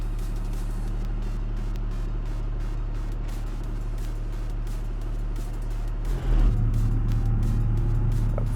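A truck engine at full throttle in the BeamNG driving game, towing trailers, drones steadily and loudly throughout with a low rumble, surging and shifting near the end, with no voices.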